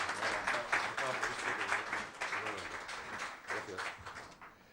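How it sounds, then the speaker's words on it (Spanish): Audience applause at an academic talk on migration and employment, a moderate patter of many hands clapping in uneven waves that gradually fades toward the end. "tengo el placer de pedirles un fuerte aplauso"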